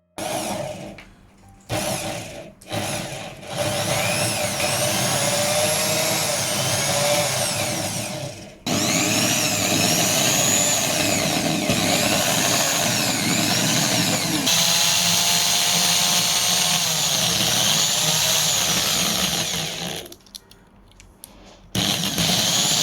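Copper wire being wound by a small power tool for a handmade solenoid engine coil, heard as a close, continuous high whirring spin that briefly stops and restarts a few times, with no talk.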